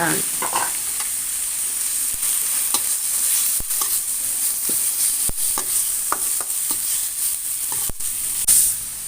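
Pork stir-frying in a pan with herbs, a loud continuous sizzle broken by repeated scraping and stirring clacks of a utensil against the pan, close and alone.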